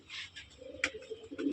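Domestic pigeons, a male and a female kept in a cramped indoor room, give a few soft, low coos in the latter half, with brief rustles and a sharp click nearby.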